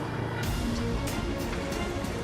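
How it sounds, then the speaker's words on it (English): Molten iron in a foundry bubbles and churns as magnesium vaporizes above 1,500 degrees, giving a dense, roaring gurgle with rapid bursts throughout, alone and close. "The bubbling sound you can hear stems partly from the magnesium."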